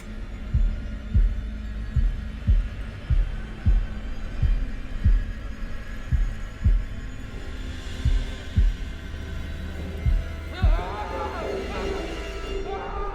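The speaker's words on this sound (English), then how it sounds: "They put in a heartbeat mechanic, but how irregular is this character's heartbeat?" A character's heartbeat in the horror video game Man of Medan: deep, steady thumps about every three-quarters of a second, loud and close over a low droning hum, with other game sounds rising near the end.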